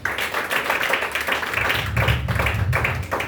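Church congregation clapping to acclaim the Lord, a dense continuous spread of hands clapping in a loose rhythm with a low murmur of voices underneath.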